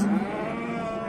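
A cow at a livestock sale lets out one short, close moo, with other low animal calls blending into the brief murmur.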